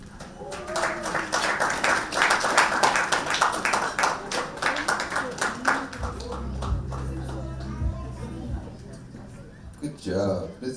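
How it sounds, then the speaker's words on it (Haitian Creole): Audience at a gala clapping, dense applause filling the room for several seconds and then thinning out, with voices audible near the end. "Applaudis encore"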